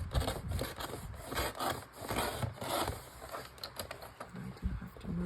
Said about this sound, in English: So you can see I'm just cutting just inside this crease.